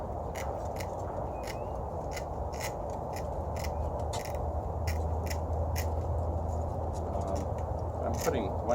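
Repeated sharp snipping cuts from tin snips, close, in a regular series of clicks over a steady background hum, with no speech.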